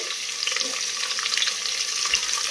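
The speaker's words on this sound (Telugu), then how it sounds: "ఉల్లిపాయ ముక్కలు కూడా వేసేస్తున్నానండి అలాగే పచ్చిమిరపకాయలు వేసుకుంటున్నాను బెండకాయలు కూడా వేసేస్తున్నాను" Onion pieces, green chillies, okra and cucumber pieces fry in oil in a pan for sambar, giving a steady, close hiss and sizzle with faint stirring scrapes underneath.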